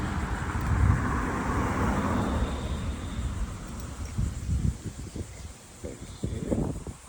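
A car passes along a residential street lined with big homes near a river, its broad rushing swell rising and then fading over several seconds, with wind noise and rustling around it and a voice talking nearby.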